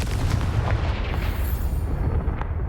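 The Confringo fire spell blasts in Hogwarts Legacy, with a dense, rumbling explosive roar that stays loud and sustained throughout with no talking.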